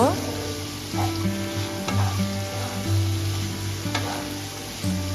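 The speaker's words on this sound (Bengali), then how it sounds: "একটু নেড়ে চেড়ে ভেজে নেব" Raisins, chopped green chilli, carrots and beans stir-fry in hot oil for vegetarian fried rice, giving a steady close sizzle broken by regular scraping strokes of a spoon in the pan.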